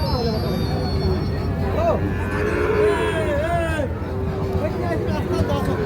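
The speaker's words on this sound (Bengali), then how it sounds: "এই পাশে দেখছিলাম একটা শাহিওয়াল ষাঁড় বাছুর।" A Sahiwal bull calf moos at a busy cattle market, its low calls rising over constant crowd chatter and nearby voices.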